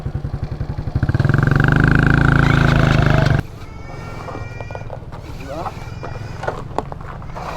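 A 20-year-old Honda XRM motorcycle engine revs up loud and close for a few seconds, then cuts to quieter road and wind noise with scattered voices, riding to Eden, Toril, Davao City.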